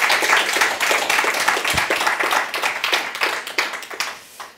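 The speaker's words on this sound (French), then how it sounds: "je vous propose pour le lancer qu'on lui fasse des applaudissements" Audience applause at a Nantes tech meetup on Android app monitoring: dense, steady clapping from a crowd, loud and close, sustained for several seconds before tapering off at the end.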